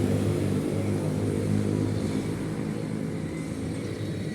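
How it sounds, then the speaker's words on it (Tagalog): A jeepney rumbles past on a road, a steady engine drone with low harmonic hum that holds for several seconds and slowly fades, fairly close, with no talking. "Ayun, may jeep na oh, dumaan na tuloy."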